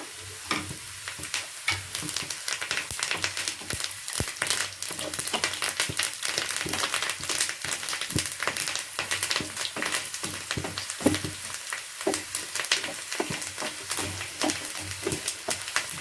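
Curry leaves crackle and sizzle in hot oil while lime pickle is made, a dense steady frying hiss with scattered sharp pops and occasional stirring scrapes, close and continuous with no talking.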